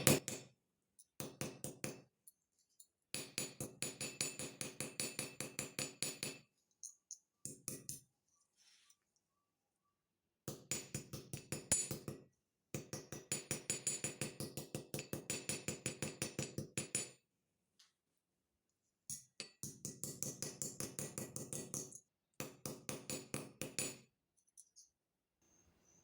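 Small hammer randomly texturing a copper sheet for a pendant, heard as fast, close, ringing metallic taps in repeated bursts separated by short silences.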